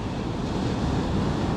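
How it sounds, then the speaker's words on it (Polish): Ocean waves wash in a dense, steady rush on a hot day at Pismo Beach, with wind buffeting the microphone throughout. "A dodatkowo są takie fale rozkołysane"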